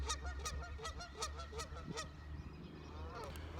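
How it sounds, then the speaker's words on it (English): Geese honk repeatedly in a loud, overlapping flock chorus, with busy outdoor background noise throughout. "these geese is crazy out here. They're about to fight."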